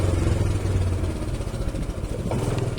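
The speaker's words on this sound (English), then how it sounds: "So listen to how the engine sounds." A manual-transmission motorcycle engine rumbles at low revs, close by, with an uneven putter and a faint clatter toward the end.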